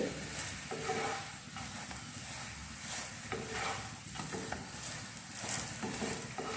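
Stuffed paratha filled with mixed palak and methi greens frying in a pan, giving a steady close sizzle with occasional stirring and scraping sounds, no talking.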